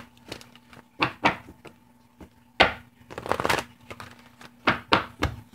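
Tarot cards shuffled by hand in bursts of crisp riffling and soft taps, several separate shuffles with quiet pauses between them, close and with no speech.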